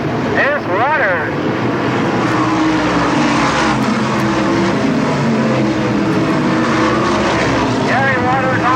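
Race cars roar continuously around an oval track at a 1984 race, loud engine noise filling the clip, with a commentator talking over it throughout.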